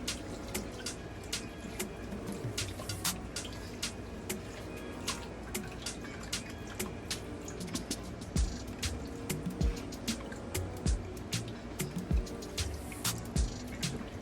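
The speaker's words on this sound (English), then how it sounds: "I'm pouring in another cup of chicken broth" Chicken broth poured from a cup into a soup pot for broccoli and cheddar soup, giving a steady close trickling, splashing liquid sound with scattered drips and small clinks, no talk.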